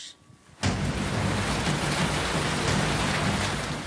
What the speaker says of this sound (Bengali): দুই বঙ্গে এখন বর্ষা, বৃষ্টি চলছে।